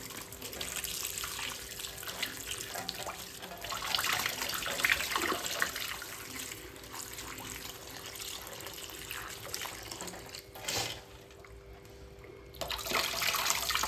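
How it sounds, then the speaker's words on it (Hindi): Vegetables rinsed under a running kitchen tap, a steady rushing stream of water with splashing and handling noises throughout, briefly dropping off near the end before resuming. "तो ये सारी सब्जियाँ वॉश कर लेंगे अच्छे से।"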